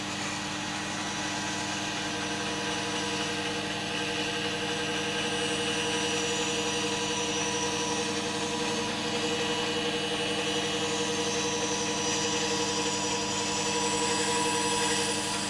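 A disc sander runs steadily on a wooden light fitting, making a continuous loud motor whine with broadband grinding noise that holds level throughout, with no talking.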